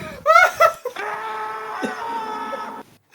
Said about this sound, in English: Kat, do you have that button of him screaming?